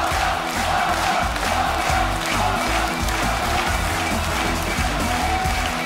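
A large crowd cheers and roars loudly and steadily throughout at a StarCraft 2 WCS Premier League 2015 quarterfinal, a dense wall of voices and applause with no break.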